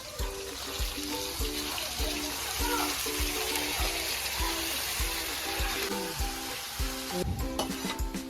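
Tomatoes and green chillies sizzle and fry in a pan for mint chutney, a steady close crackle with repeated scraping stirs, no talk over it.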